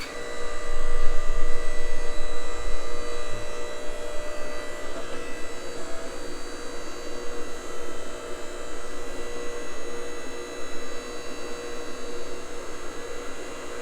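A MetalPro ironworker machine runs with a steady electric motor hum and whine, a few low knocks early on, and no speech.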